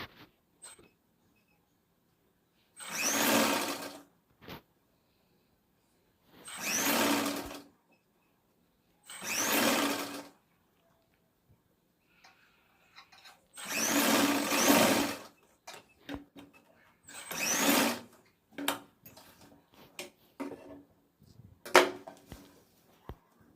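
A sewing machine stitches a four-tuck lined blouse, running in several separate bursts of a few seconds each with quiet pauses between, ending in a string of shorter, choppier runs close by.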